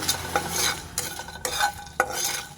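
Whole spices dry-roasting in a pan for homemade chowmein masala, stirred with repeated close scraping strokes and a soft sizzling hiss, with no voices.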